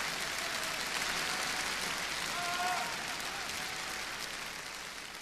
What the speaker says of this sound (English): It's definitely the longest applause someone has had after performing tonight.